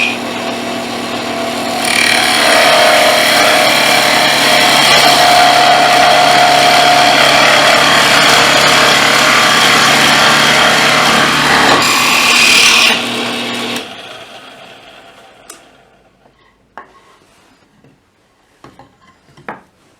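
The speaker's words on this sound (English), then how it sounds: "I'm going to start by drilling a large hole for the dowel to pass through" Power drill boring a large hole through wood for a banjo build, a loud steady whining grind for about twelve seconds that stops, followed by quieter scattered clicks and knocks of handling.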